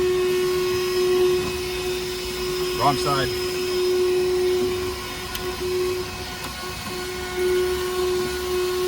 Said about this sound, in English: We're gonna vacuum this crap out of there.